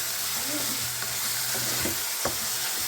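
Carrot chutney ingredients with tomato and curry leaves sizzle steadily in a pan while a spoon stirs through them, a constant close frying hiss with a few soft scraping knocks.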